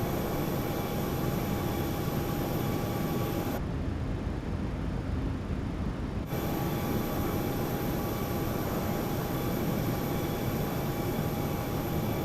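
In a flight simulator, a 737-800 cockpit carries a loud, steady jet and air roar with whining tones. A brief section of dulled, muffled noise may be the flaps extending, and no one speaks.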